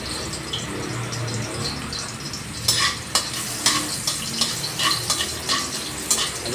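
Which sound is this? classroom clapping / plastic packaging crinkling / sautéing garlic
sautéing garlic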